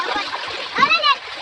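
Water splashing and trickling as children dig a small pond by hand, brief and close, mixed with children's voices talking over it.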